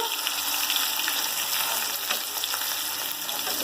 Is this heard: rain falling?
no